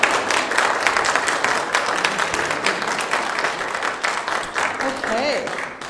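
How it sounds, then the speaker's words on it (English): Sustained audience applause at a church service welcoming new members, a dense, steady wash of many hands clapping near and loud for about six seconds, with a few voices murmuring underneath. "Let's give them a round of applause."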